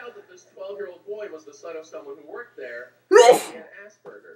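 A person talks briefly, then lets out one loud, sudden sneeze close to the mic, followed by a short word.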